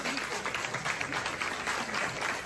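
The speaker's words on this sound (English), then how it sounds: "Let's get applause here." Applause rises from a congregation during a sermon, a dense, fairly faint wash of clapping that holds steady, with a little indistinct voice mixed in.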